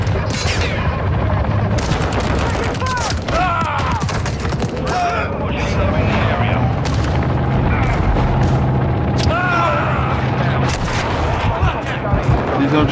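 Dense, loud gunfire in Call of Duty Modern Warfare, with repeated sharp shots and bursts layered over explosions and battle noise for the full stretch, and voices talking now and then in the mix.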